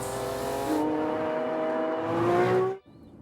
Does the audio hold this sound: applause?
no